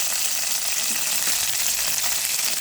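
Curry leaves and dried red chillies sizzle steadily in hot tempering oil for a breakfast usali, a continuous close, fairly loud crackle and hiss with no voices.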